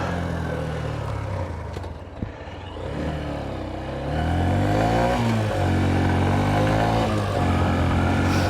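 A Honda CB125F motorcycle being ridden after a clutch cable adjustment, its engine droning loud and close throughout, with a rising pitch in the second half as it accelerates under wind noise.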